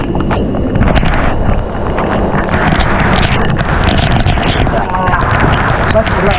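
A strong jet of water pours down at a hidden cave waterfall near Karjat, a loud roaring rush close to the microphone, with buffeting gusts and voices talking over it.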